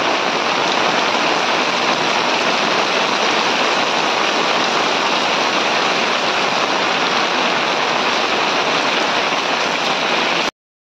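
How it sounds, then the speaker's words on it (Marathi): Heavy rain pours down steadily in a village, a loud, dense, unbroken hiss of falling water that fills the whole stretch before cutting off suddenly at the end. "पाऊस बघा कमीच व्हायचं नाव नाही घेत आहे"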